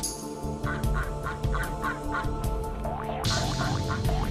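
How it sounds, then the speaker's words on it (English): Ducks in the Frogger video game quack and gabble in a rapid repeated series over continuous game music, with a louder burst of bird calls near the end. "I am riding that duck."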